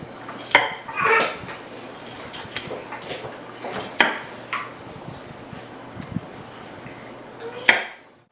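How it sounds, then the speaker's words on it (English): A knife chopping broccoli on a board, heard as scattered sharp knocks and clatters of blade on wood at an uneven pace over a low background hum. "We've chopped our broccoli up."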